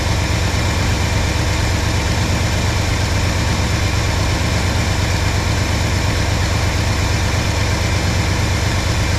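A big block engine in a Ford Ranchero runs steadily and loud, with a low rumbling idle and a continuous vibrating drone while it is starved of fuel, and no voices are heard.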